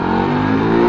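A Euro Rock R 125 V2 motorcycle's 125 cc engine revs loudly and close up, a steady rising drone with no talk over it.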